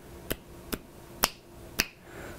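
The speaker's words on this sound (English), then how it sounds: "And now I'm gonna snap on it." Four crisp finger snaps close to a microphone, spaced roughly half a second apart, with a faint low hum underneath and no talking.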